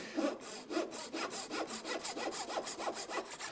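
Hand sawing thin wooden strips for a classical guitar, a close, brisk rhythm of about a dozen even rasping strokes with no talk.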